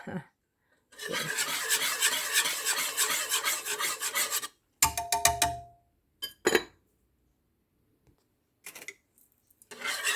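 A simple whisk stirs creamy maja maize (corn pudding) in a pot, making several seconds of raspy, rhythmic scraping, then a few short bursts separated by quiet gaps.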